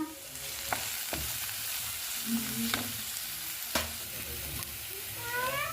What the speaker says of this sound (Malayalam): ഈ രണ്ട് ക്യാബേജും ഈ ബീൻസും കൂടി നമുക്കൊന്ന് സോർട്ട് ചെയ്ത് എടുക്കണം ഉപ്പും കുരുമുളകും പിന്നെ ഇച്ചിരി മഞ്ഞപ്പൊടി ഇട്ട്